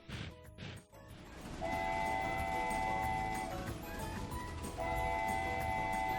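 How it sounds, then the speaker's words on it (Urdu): A train runs with a sustained rumble and long tonal horn blasts sounding twice, loud and steady after a brief noisy start, with no voices. "ریل گاڑی جب چلتی ہے تو اس میں سے چک چک چک کی آواز آتی ہے"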